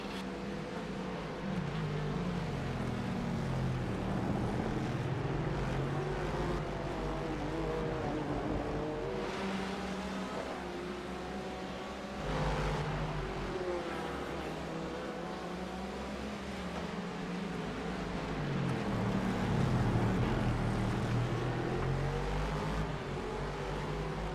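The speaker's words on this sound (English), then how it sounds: "Beautiful sounds of the C7 Corvette" A C7 Corvette race car engine in iRacing at Sebring International Raceway roars steadily, its pitch rising and falling as it revs and shifts, loud and continuous.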